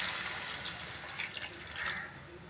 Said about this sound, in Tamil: காய் வேகிற அளவுக்கு தண்ணி சேர்த்துக்கலாங்க.